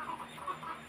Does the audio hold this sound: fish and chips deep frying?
no